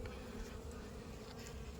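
A swarm of aggressive Apis cerana honeybees hums in a dense, continuous buzz, close and steady throughout the short moment, with no talking.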